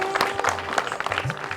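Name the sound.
audience applause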